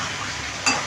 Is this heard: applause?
no